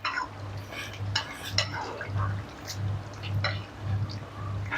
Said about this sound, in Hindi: अब हम इसको अच्छी तरह से मिक्स कर लेंगे ताकि अच्छी तरह से इसमें इसका फ्लेवर आ जाए और मैरिनेट हो जाए